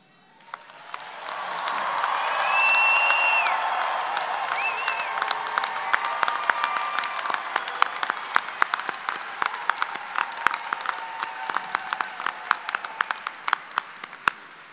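A commencement crowd at a university fall graduation bursts into sustained applause and cheering, swelling fast and holding loud for many seconds, with sharp individual claps popping out of the wash and a few whistles and shouts riding on top.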